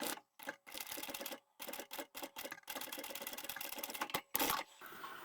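Sewing machine stitching back over an existing seam on leather or vinyl scraps for a shell-shaped pouch, fast mechanical bursts stopping and starting in short runs, close and clear with no talk.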